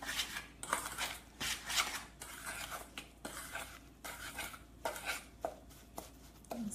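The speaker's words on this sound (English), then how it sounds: "you're just literally going to stir until it becomes sort of that dough-like consistency" Salt dough being stirred by hand in a bowl, giving a steady run of close scraping and sloshing strokes with no one speaking.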